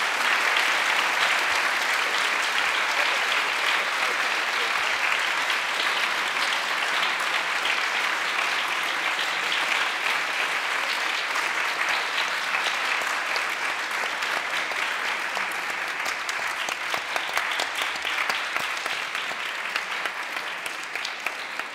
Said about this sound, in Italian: Questo applauso aveva proprio bisogno di scoppiare